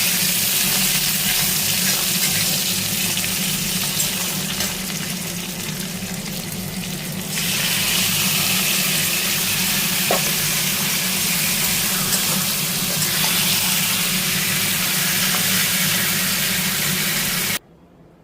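Spiced meat frying with browned onions in a pan, giving a steady, dense sizzling hiss that runs loud and unbroken almost to the end, with no voices.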